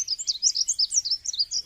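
A songbird with bright yellowish-green plumage sings a rapid, continuous run of high, warbling chirps and trills, close and clear with no talking over it.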